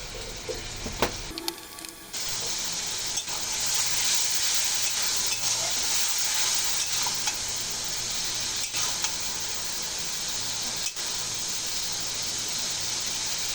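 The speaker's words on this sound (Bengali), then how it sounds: "এখন দেবো লবণ হলুদ ঝালের গুঁড়ি আর জিরার গুঁড়ি দিয়ে সুন্দর করে মশলাগুলো কষিয়ে নেব" Spice masala of salt, turmeric, chili powder and cumin sautés in hot oil for koi fish bhuna, giving a steady close sizzle and hiss, with a short scrape or clatter at the start and occasional faint stirring clicks.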